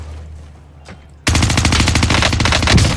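Sustained automatic gunfire from a Call of Duty match on Rebirth Island bursts in loud and close after a quiet moment, a dense rapid stream of shots continuing to the end with no talking.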